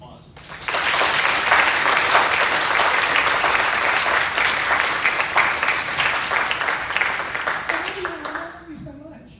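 An audience bursts into sustained, loud applause for a concert band's directors, clapping densely for several seconds before fading out as a voice begins to speak.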